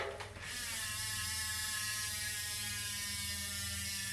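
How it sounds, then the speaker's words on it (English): A bicycle wheel's ratchet freehub spins freely, giving a fast, continuous, even buzz of clicks that runs steadily after a short start, close and fairly quiet. "This design is also what gives the ratchet freehub its unique sound."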